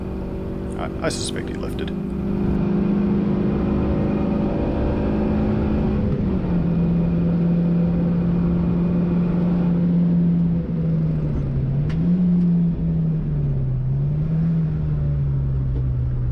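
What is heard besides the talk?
Toyota Vitz racing on Pukekohe track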